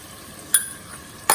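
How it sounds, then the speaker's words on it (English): Turmeric, salt and spices being stirred into dhaba-style masala khichdi in a pot, two short scraping stirs against a faint simmering background. "Then stir a little bit."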